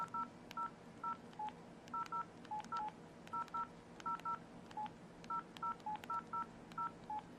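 Phone keypad beeps, a steady series of short, evenly spaced touch-tone chirps from a handset keyboard as keys are pressed one after another, quiet and close with no talking.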